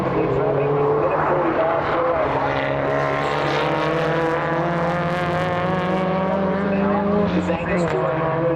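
A Mazda RX7 race car at the World Time Attack Challenge 2023 drones with a sustained high-revving engine note, holding steady across the stretch, while an announcer talks over it.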